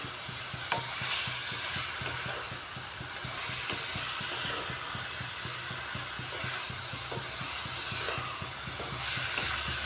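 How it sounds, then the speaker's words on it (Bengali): Spices sauté in a pan for a coriander-leaf egg curry, a constant close sizzle under quick, rhythmic stirring scrapes that continue evenly throughout. "মশলা দিয়ে এখন একটু সময় কষাতে হবে এটাকে"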